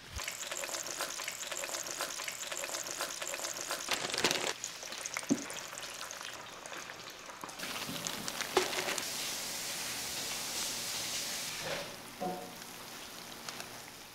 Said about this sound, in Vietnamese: Bây giờ mình lấy ra và đi chiên giòn nha.